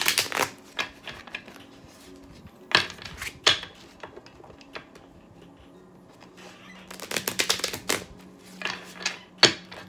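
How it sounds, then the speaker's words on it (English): Tarot cards being shuffled in quick riffling bursts, several separate rounds with short pauses between, close and crisp, no talking. "Two more shuffles."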